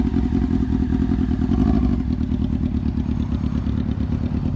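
A motorcycle setting off on its first ride after an oil change and new battery, with a steady loud engine drone and rumble close by, alone without talk.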